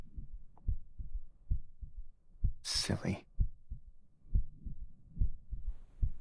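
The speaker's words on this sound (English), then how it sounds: "Are you listening to my heartbeat?" A close, steady heartbeat pulses in soft low thumps throughout a quiet ASMR recording, with a brief rustle and a softly spoken word partway through.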